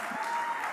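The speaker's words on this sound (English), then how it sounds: "I love how everyone's like cheering for themselves" Brief burst of applause from a banquet audience at a health awards celebration, steady and moderately loud, with light voices mixed in.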